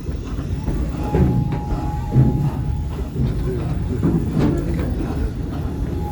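Serengeti Express train at Busch Gardens Tampa rolling along its track, a steady rumble of wagons with soft thumps and faint clatter throughout, a thin whistle-like tone midway, and a narrator's voice over the ride.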